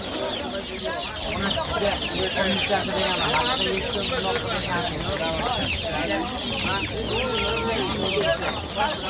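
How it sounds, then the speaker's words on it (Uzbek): Black chickens at a bazaar cluck and chatter continuously in a dense, close flock, with overlapping calls and market voices talking beneath. "Qara shahzoda, qara tovuqlar."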